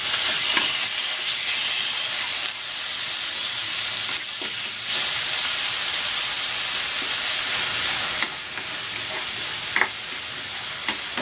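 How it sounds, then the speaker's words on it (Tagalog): Pork sautéing with onion in a pan, a steady close sizzle and hiss running throughout, with occasional brief clinks and scrapes of stirring. "Igigisa ko na tong pork."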